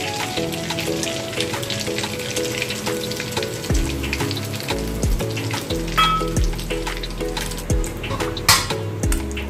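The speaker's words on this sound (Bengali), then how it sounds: "এবার আমি শুকনো লঙ্কা ফোড়ন দিচ্ছি আর দিচ্ছি সামান্য জিরে ফোড়ন" Dried red chilies and cumin seeds sizzle in hot oil for a home-style chicken curry, a continuous crackle and spatter with scattered pops, heard close with some clinking.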